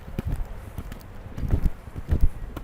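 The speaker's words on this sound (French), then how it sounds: "Voilà, là, tu as un cheval" Horse hooves trotting on an arena surface during a riding lesson, a steady soft rhythmic clip-clop of repeated muffled thuds at moderate distance, with wind and faint background noise.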